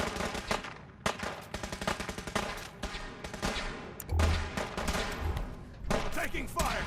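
Rapid bursts of gunfire in the Fallout 4 video game, loud rattling volleys broken by short pauses, with heavier blasts near the end and occasional voices mixed in.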